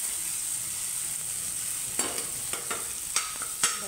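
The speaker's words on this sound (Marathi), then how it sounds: "आता इकडे फोडणी बनवून घेऊ, मसाला व्यवस्थित करून घेऊ।" Tempering spices for hotel-style pav bhaji sizzle in a pan, a steady bright fry hiss broken by several sharp stirring scrapes and clinks, close and with no voices.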